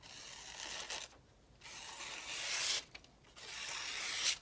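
A freshly sharpened blade takes fine, quiet shavings, heard as soft, airy rasping strokes close by, with two brief pauses between them.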